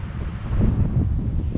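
Wind blows across the microphone at a windy winter campsite. It makes a loud, low buffeting rumble that goes on without a break for the short stretch of sound.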